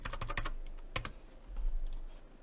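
Quick bursts of typing on a computer keyboard, a rapid cluster of clicks followed by a few scattered keystrokes, close and fairly quiet with no talking.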